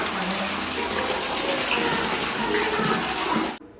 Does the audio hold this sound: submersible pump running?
yes